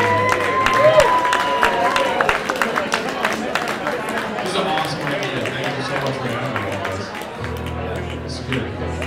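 Applause for a performer at a small live music show, a steady patter of clapping hands with some crowd murmur and a low sustained hum underneath, fairly close and moderately loud throughout.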